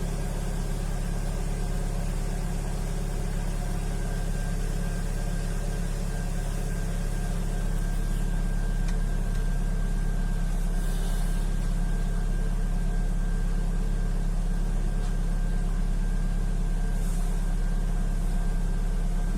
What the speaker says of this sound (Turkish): arabayı çalıştıracağım.